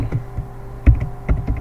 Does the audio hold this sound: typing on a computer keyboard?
yes